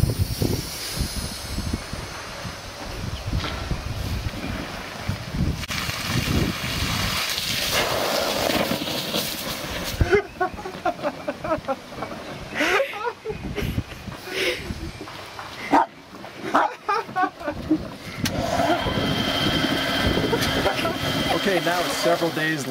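A compressed-air Brumby pump drawing well water in Ecuador runs with a continuous rumbling, hissing mechanical noise and sharper bursts throughout, loud and close, with people talking over it.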